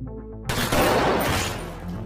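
Gunshots in a film scene as a courier tries to shoot: after a low droning music bed, a sudden loud burst of gunfire erupts and rings out with a noisy crackling tail over about a second.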